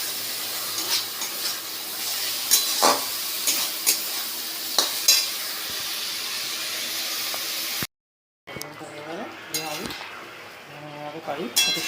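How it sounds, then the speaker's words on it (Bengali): Potatoes sautéed with ground coriander, cumin and onion paste in a pan, a close stirring sizzle with clinks of a spoon, breaking off briefly before scraping and sizzling resume. "আলুটা কষে নিচ্ছি।"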